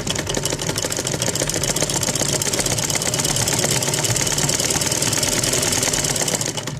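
Sewing machine running steadily while stitching a straight seam on a ruffle dupatta, a loud continuous motor whir with rapid needle clatter lasting the whole time, no talking.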